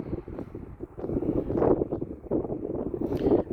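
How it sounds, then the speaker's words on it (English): Gusty wind buffets the microphone with a steady low roar that swells and rumbles throughout, close and fairly loud, with no talking. "It's a little windy out here."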